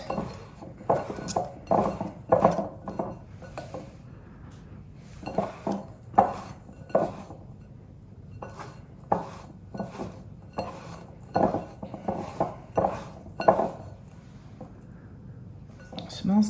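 Bath bomb ingredients are mixed by hand in a bowl, with repeated rhythmic bursts of rubbing and light clinks against the bowl, alongside people talking.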